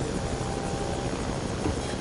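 A helicopter in the Battlefield 2 video game makes a steady, dense rotor and engine roar that fills the whole clip at an even level.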